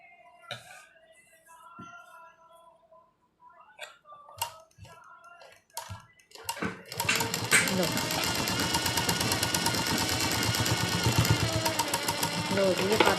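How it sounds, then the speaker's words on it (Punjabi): A sewing machine stitching fabric runs loud and steady with a fast mechanical chatter, after someone speaks briefly over a few scattered clicks and handling sounds. "ਮੈਂ ਸਲਾਈ ਕਰ ਲਈ"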